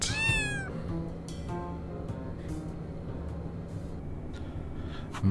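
A cat meows once in a cozy life-simulation video game, a short clear mew at the start, followed by faint clicks and soft game sounds over a low steady background hum.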